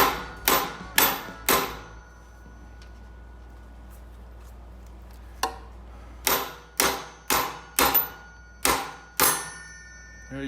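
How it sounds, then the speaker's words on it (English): A hammer strikes the axle nut on the rear wheel of a Himiway e-bike to break it loose, giving sharp metallic clanks in two bursts: three quick hits, a lone tap, then a faster run of six ringing blows. "So you hit on the nut just to break that free."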